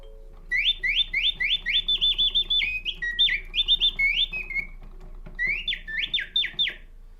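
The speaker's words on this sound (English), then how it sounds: "The singing birds became a very, very popular decorative object with mechanical action to be found in the salons" A mechanical singing-bird automaton, a French salon piece, chirps in rapid whistled trills and falling tweets, loud and close, in several bursts with a short pause before a final phrase, over a faint mechanical hum.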